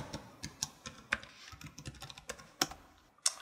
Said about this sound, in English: So I'm gonna log into my Wi-Fi network, which is that one, and type in my password.